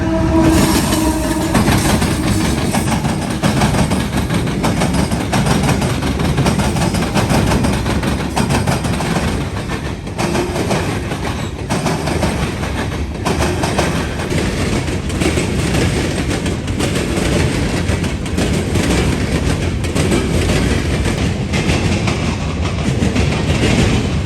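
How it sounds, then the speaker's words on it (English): An empty northbound grain freight train on the CNO line rolls steadily past near Marion, Ohio, with several locomotives including a Dash 8 unit, its wheels and wagons rumbling and clattering continuously and loudly throughout with no talking. "a northbound empty grain train heads north on the CNO line towards Walbridge"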